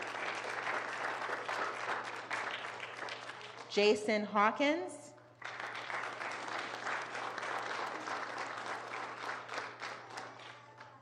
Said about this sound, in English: Let's give them applause as they come.